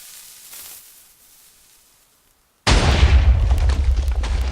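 Minecraft TNT cannons fire, with a quiet stretch giving way to a sudden loud, sustained rumble of blasts that keeps rolling to the end.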